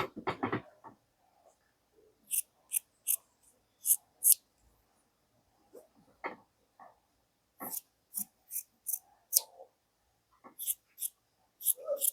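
Scissors snip fabric at a waist dart on a garment pattern, in short, crisp clusters of cuts separated by quiet pauses, close and fairly soft.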